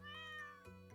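A single drawn-out meow from a pet cat in the Stardew Valley farming game, clear and up front over soft background music.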